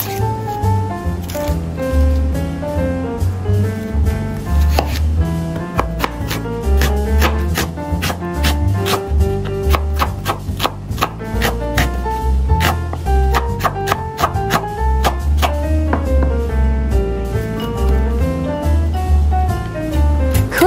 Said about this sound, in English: Sliced onion.